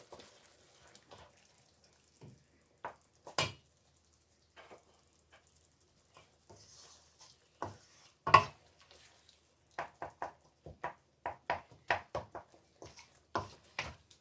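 Tomato rice ingredients stirred together in a pan with a little water added, giving scattered soft scrapes and a run of quick, close clinks and stirring taps, otherwise quiet.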